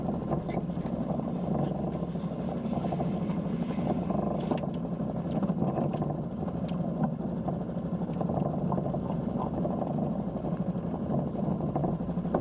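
Steady low engine hum of a Ranger 23 sailboat motoring on the Columbia River, constant and moderately loud throughout, with faint wind and water noise.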